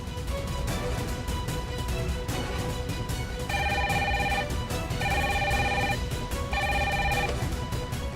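A telephone rings in a steady electronic pattern, with about three clear ring bursts at even intervals over a faint background hum and no talking.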